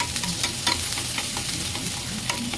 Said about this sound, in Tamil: வெங்காயம் பொன்னிறமாக வர வரைக்கும் வதக்குங்க